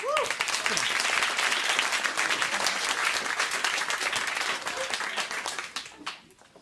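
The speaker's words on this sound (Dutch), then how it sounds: "Joost, even een applaus." A studio audience applauds at a Dutch talk show, dense sustained clapping that holds steady for several seconds, then thins and fades out near the end.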